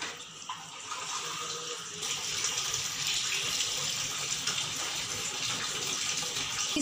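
Three to four glasses of water poured into a cooking pot of yakhni, a continuous splashing gush running steadily and fairly close throughout.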